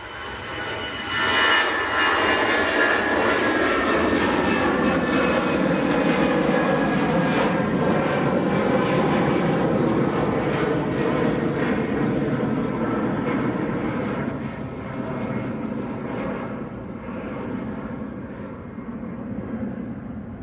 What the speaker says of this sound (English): That was EasyJet to Paris Charles de Gaulle that just took off.